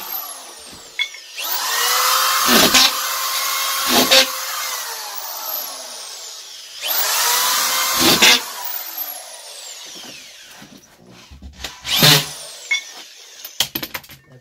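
A power drill drives screws into sheetrock, whining up in several long bursts that each trail off, with short clicks and handling noises between them near the end.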